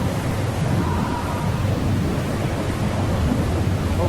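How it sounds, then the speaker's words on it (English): A thunderstorm in the game Lifeless Planet rumbles as a continuous, heavy roar of deep thunder and rain-like hiss, steady and loud throughout with no talking. "Wait out the storm."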